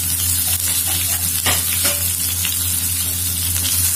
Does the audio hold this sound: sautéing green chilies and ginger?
yes